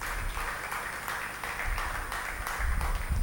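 Crowded clapping from an audience, a thick continuous patter of many hands that holds steady for several seconds, close and moderately loud with a low rumble underneath.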